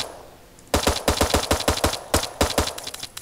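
Rapid bursts of gunfire from a gun in the sci-fi survival game Eden Star, about a dozen sharp shots in quick succession after a brief quiet start, loud and close, with no talking.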